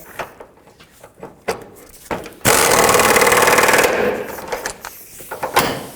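Front sway bar bolts on a 2007-2009 Saturn Aura being tightened with a power tool, a loud buzzing impact-wrench burst of about a second and a half amid scattered metallic clicks and handling noises.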